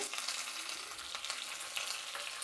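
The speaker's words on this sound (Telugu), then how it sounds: "ఇందులోకి కరివేపాకు కూడా బాగా వేగాలండి." Curry leaves and mustard seeds fry in hot oil, giving a steady, close crackling sizzle with fine popping throughout and no voices.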